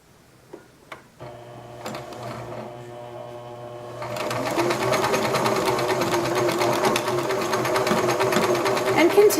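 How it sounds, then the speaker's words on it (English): Straight-stitch seam sewn on a sewing machine: a few light clicks and taps first, then the machine runs steadily and loudly from about the midpoint to the end, with no talk. "continue down to the first corner, following the line of the straight stitch with the left edge of my presser foot"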